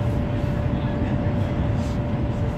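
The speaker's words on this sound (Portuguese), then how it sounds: "É um trem elétrico, não é de trem de magnético" Steady low rumble and rushing cabin noise inside a Chinese electric high-speed train cruising at 300 km/h, continuous and fairly loud with a faint steady tone above the drone.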